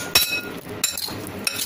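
A spoon clinks against a bowl while potato wedges are mixed with ginger garlic paste: three sharp, close metallic clinks with quieter scraping between them.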